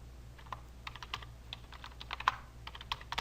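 Quick, irregular keystrokes on a computer keyboard as a short name is typed into an Excel spreadsheet, close and crisp clicks in a brief burst with no talking.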